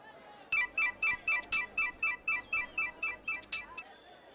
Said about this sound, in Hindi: फोन लगाइए इसको